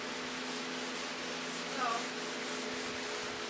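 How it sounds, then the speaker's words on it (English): Bar Keepers Friend cleanser rubbed over painted metal gives a soft, continuous scrubbing hiss with faint rhythmic strokes and a brief squeak near the middle, close and fairly quiet, with no talking. "the barkeeper's friend is polishing out the crappy spots in the paint better"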